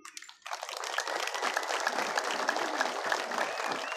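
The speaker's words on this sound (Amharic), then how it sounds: "እስቲ እግዚአብሔርን የምትፈሩ ሰዎች አጨብጭቡ" A church congregation bursts into steady applause after a brief quiet moment, many hands clapping densely and evenly at moderate distance for several seconds.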